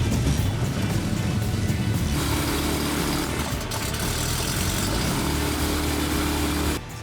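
Viper SD4 light aircraft engine running at Dobrá Niva airfield in Slovakia, a loud, steady, close droning hum that shifts pitch slightly partway through before cutting off near the end.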